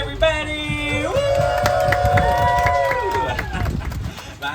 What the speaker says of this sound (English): give a round of applause for Adam, everybody!